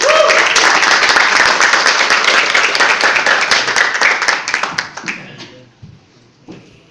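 Audience at an internal company meeting applauds its leader as he is introduced, a loud, dense clapping that holds steady for about five seconds, then fades to a few scattered claps and near silence.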